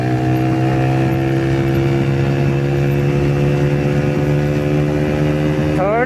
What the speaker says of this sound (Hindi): तो अगेन एक रन देंगे बाइक को हम। फर्स्ट गियर, सेकंड गियर में ऑलमोस्ट